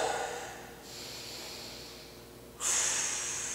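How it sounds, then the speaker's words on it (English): Deep belly breaths taken while holding a shoulder stretch: a long, close exhale, then a slower airy breath, and a sharp loud inhale through the nose near the end. "I'm going to hold here for one or two big belly breaths"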